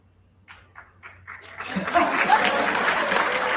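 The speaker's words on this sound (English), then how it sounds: "That's called prop applause." Applause at a political candidates forum in Florence, South Carolina swells from a few scattered claps into a full, steady round of clapping from a crowd, with some laughter mixed in.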